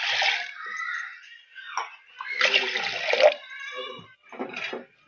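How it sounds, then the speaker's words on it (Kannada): Water pours steadily into a pot of washed lentils for drumstick sambar in several bursts, close and fairly loud, with brief pauses between pours. "ಈಗ ನೀರು ಹಾಕೋಣ ಒಂದೆರಡು ಗ್ಲಾಸ್"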